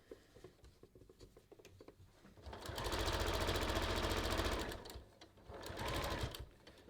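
A sewing machine stitches a kangaroo pocket onto a top, starting after a few soft handling sounds with a loud, fast, even whirring run, a short pause, then another burst of rapid stitching.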